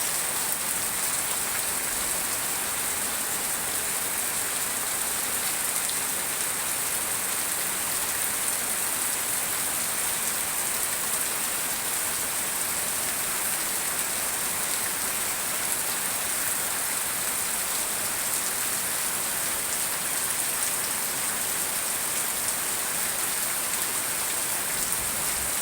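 Heavy rain pours steadily in Cikarang, a dense, even hiss of drops on surfaces lasting throughout with no letup and no voices.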